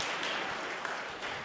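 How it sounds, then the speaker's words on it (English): Audience applause at a chess exhibition event in Las Vegas: a steady, dense wash of clapping hands that holds evenly throughout, moderately loud with no voices over it. "give them a warm round of applause"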